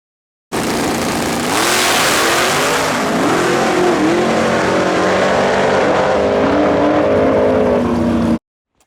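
Drag race cars thunder down the strip at an outlaw list race night, a loud, sustained roar of engines screaming and climbing in pitch as they accelerate hard, close and overwhelming from start to finish.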